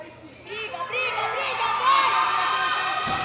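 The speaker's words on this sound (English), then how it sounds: "Getting encouragement from the crowd." Crowd at the 2018 World Classic Powerlifting Championships, men's open 74 kg, cheering and shouting to urge on a lifter at a heavy 280 kg attempt, a sustained loud mix of voices and whoops swelling after a quieter start.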